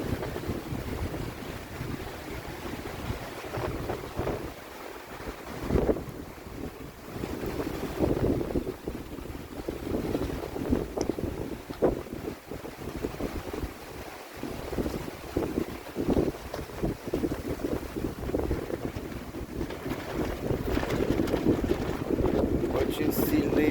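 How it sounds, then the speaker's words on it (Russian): Strong wind roars and buffets the microphone in gusts at Lake Seliger, with broadband rumbling noise throughout and occasional brief voices beneath it. "Очень сильный ветер."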